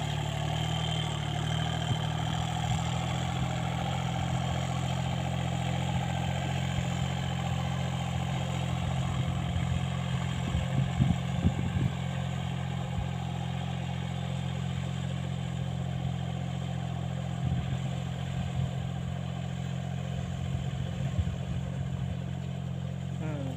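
An old Kubota three-cylinder tractor engine on steel wheels working a wet paddy field, running with a steady low idle-like drone and occasional rattles, medium distance, no talk.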